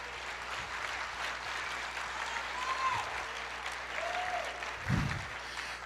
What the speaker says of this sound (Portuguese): Aplauda mais, diga eu creio.